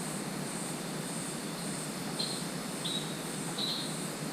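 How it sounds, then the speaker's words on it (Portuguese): Frogs call in a forest at night: a continuous faint, high-pitched trilling chorus mixed with a few brief chirps from other frogs, steady and distant with no voices. "Esse barulho de sapo mó engraçado, né?"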